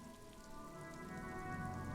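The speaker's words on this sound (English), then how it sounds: "Rain falls down on the world." Rain falls steadily in the video game Disco Elysium, a soft, continuous patter of drops on surfaces, faint and unbroken with no voices.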